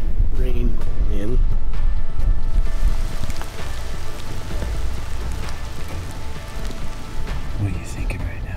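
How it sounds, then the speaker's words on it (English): Rain patters steadily on surfaces outdoors during a rifle mule deer hunt in Utah, a dense hiss that continues throughout, with brief speech near the start. "Like we got some rain in."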